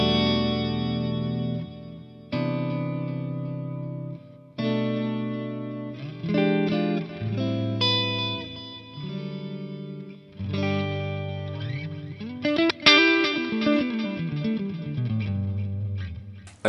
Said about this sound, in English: here's that same profile, but actually how it started off, the sound of the amp